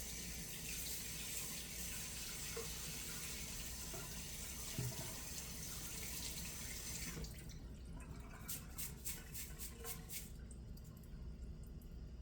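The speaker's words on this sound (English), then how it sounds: "I'm going to go ahead and rinse my rice and my broccoli so they'll be ready." Running tap water rinsing rice and broccoli in a kitchen sink, a steady close splashing flow for most of the stretch, then a few brief drips and taps as the stream changes near the end.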